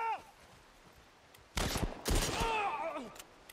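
Bursts of automatic gunfire erupt in two loud clusters from a Last of Us Part II gameplay firefight in 4K HDR, with echoing shots and faint game sounds between them.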